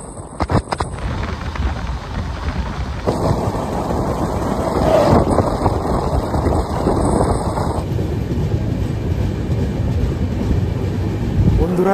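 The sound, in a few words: Jnaneswari Express train entering Gondia railway station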